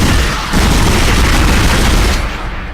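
Assault rifle fire in the video game Dead Space, a loud, dense, continuous roar of shots that holds steady for about two seconds and then cuts off.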